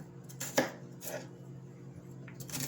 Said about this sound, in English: And you keep chopping it.